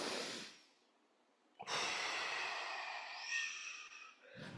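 Close, audible yoga breathing while standing with hands at heart: one exhale fading out, a pause, then a long steady breath drawn in and held, ending with another breath.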